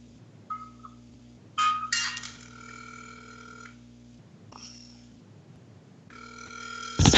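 A phone call rings out during a radio show broadcast, with repeated electronic ring tones and tonal beeps over a steady low studio hum, fairly loud and close, with no talking.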